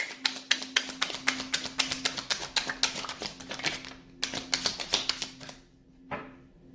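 Rapid, crisp clicking and flapping of tarot cards being shuffled, a dense riffle of taps that pauses briefly, resumes, then stops with a final snap.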